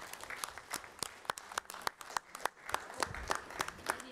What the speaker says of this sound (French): je voulais vraiment qu'on puisse l'applaudir aujourd'hui